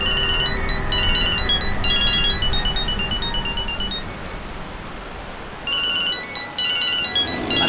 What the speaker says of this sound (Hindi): अरे साहब फोन बज रहा है आपका